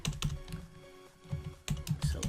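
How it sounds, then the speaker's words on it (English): Rapid typing on a computer keyboard while working in Blender, a quiet, irregular patter of key clicks in short bursts with brief pauses, close but fairly soft, with no talking. "I just hate typing."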